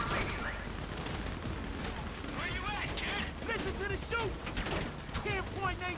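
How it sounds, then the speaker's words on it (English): Rapid bursts of gunfire and explosions crackle through a busy GTA 5 game soundscape, with voices talking over the shooting. "You hear that gunfire?"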